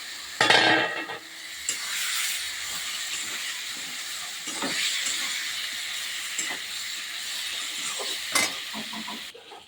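Fried cauliflower and potato pieces are stirred into hot spices in a pan, making a steady close sizzling hiss broken by sharp utensil scrapes and knocks, with no talking.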